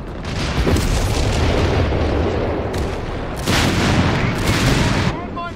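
Artillery fire in the video game Company of Heroes 3: heavy, continuous booming barrages roll close and loud, with a brief lull before a second dense burst of blasts.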